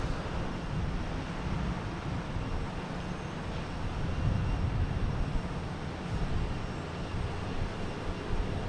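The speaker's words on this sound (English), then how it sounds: "United Airlines coming in from San Francisco at 737, MAX 9" A United Airlines Boeing 737 MAX 9 lands at Boston Logan, a steady, moderately distant jet roar rising slightly midway, with no voices.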